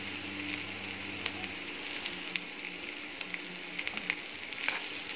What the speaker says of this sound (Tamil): மாங்காய் நல்லா சுருங்கி வர வரைக்கும் இதை நல்லா வதக்கணும்.